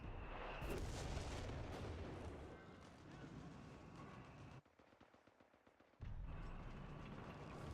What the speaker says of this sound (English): I heard the howitzer start to shoot.